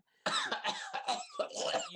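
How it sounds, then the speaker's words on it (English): Harsh, raspy coughing in a continuous fit of bursts, loud and close, after a moment of quiet. "You're coughing up your lung."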